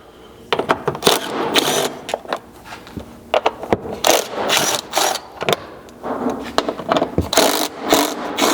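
A wrench works on the 10mm hex-head fasteners of a 2nd-gen Sequoia rear bumper, making close, irregular bursts of ratcheting and scraping clicks separated by short pauses.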